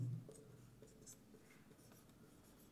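Chalk or marker writing on a board during a political science lesson on the Cold War, with light scratchy strokes in a quiet room.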